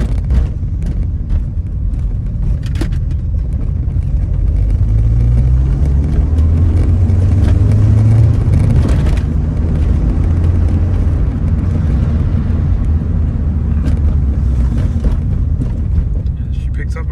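MG ZS 180 with a big exhaust picking up speed and running through the gears: a steady mid-loud engine drone with rising pitch sweeps, under road noise and someone talking.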